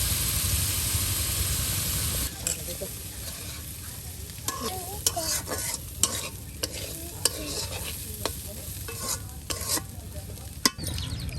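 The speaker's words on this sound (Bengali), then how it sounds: "একদম ভাজা ভাজা করে নেওয়া হবে যেন তেলগুলো আলুতে প্রবেশ হয়ে যায়" Potatoes frying in oil, a steady bright sizzle that runs throughout, broken by occasional clinks and scrapes of a utensil stirring the pan.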